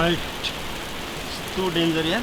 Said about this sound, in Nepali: पानी पर्दो रहेछ कि छाता चाहिन्छ है छाता खोल्नु सबैले